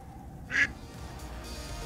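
A decoy duck used during a spring duck hunt gives a single short, raspy quack at mid-distance over a quiet outdoor background.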